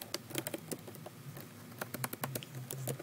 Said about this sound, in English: I started typing in positive quotes